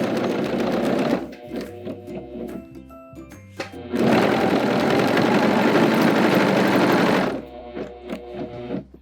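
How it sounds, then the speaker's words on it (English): A serger sewing machine gathers and ruffles fabric in loud, steady bursts of fast stitching, running about a second, pausing briefly, then running continuously for several seconds before slowing into lighter intermittent stitches while chaining off. "I'm gonna go ahead and ruffle up to here and then chain off."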